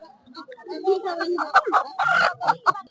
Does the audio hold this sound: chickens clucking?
yes